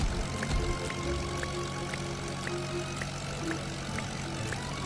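A propeller airplane engine drones steadily in a Roblox flight game, a constant close hum with a faint rhythmic pulsing and no talking.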